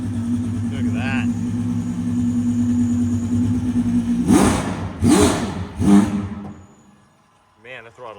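A just-started car engine idles with a steady hum, then revs sharply several times on a touchy throttle before dropping away. A person speaks briefly near the end.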